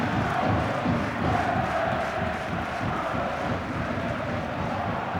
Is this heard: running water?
no